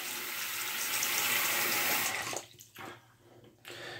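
A tap runs water into a sink to wet a face before a shave, a steady close splashing rush that breaks into a few brief splashes and then resumes near the end.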